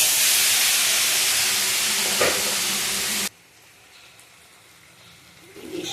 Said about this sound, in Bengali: ইলিশ মাছ কড়াইয়ে ভাপা